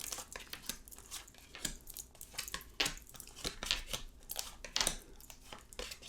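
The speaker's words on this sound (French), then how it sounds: "je recoupe et on va poser les cartes" Tarot cards are shuffled, cut and laid down on a table with papery crinkles, soft slaps and brushing swipes in an irregular run of close handling noises, with no voices.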